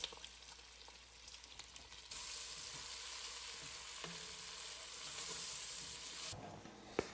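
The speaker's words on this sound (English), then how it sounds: "first I need to add the leeks because the bacon is ready." Leeks and bacon frying together in a pan, a steady crackling sizzle that jumps louder partway through and stays dense and close, with a few faint stirring clicks and no talking.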